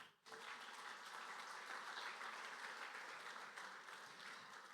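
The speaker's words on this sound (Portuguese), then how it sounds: "Só quem entendeu, aplauda Jesus." Church congregation applauding during a sermon, a faint but continuous wash of clapping that starts abruptly and holds steady throughout.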